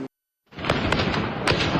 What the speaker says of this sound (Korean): 밤에도 시위 현장에선 총성이 울리고